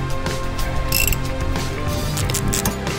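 A ratchet wrench with a 13 mm socket loosens a brake caliper bolt on a VW Golf, giving a loud, close, steady run of rapid mechanical clicking.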